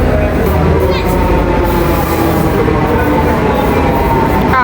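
A metro train pulls into a station, loud and close, with a dense continuous rumble of wheels and motors and faint clicks and squeals over it for the whole stretch.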